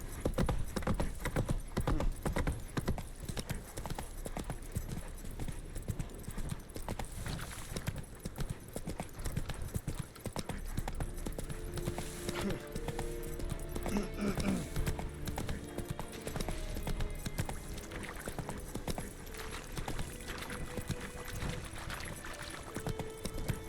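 Horse hooves in The Witcher 3 game, a fast, steady clip-clop of galloping hooves that runs throughout at fairly close range, with occasional talk over the top.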